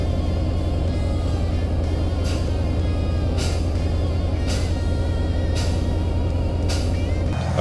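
Volvo F87 truck idling steadily while its air system builds pressure, with sharp hissing air bursts recurring every second or so over the constant low engine rumble, no voices.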